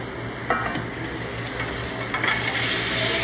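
Shrimp frying in olive oil in a pan, a steady bright sizzle that builds and holds, with a few soft clinks of utensil against the pan.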